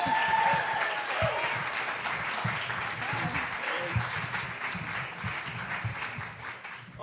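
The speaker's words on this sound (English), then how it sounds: "here comes Abe, lots of applause." Audience applause as a comedian walks on stage, steady loud clapping from a crowd filling the whole moment and tapering slightly toward the end, with no talk over it.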